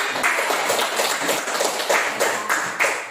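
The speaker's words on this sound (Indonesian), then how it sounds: "Ya, tepuk tangan untuk dia." Classroom applause for a student, a dense, steady patter of many hands clapping close and loud throughout, with little or no talking.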